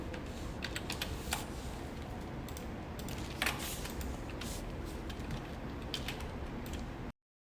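Quick taps on a computer keyboard over a steady background hiss, with a few louder key strikes standing out before the sound cuts off abruptly.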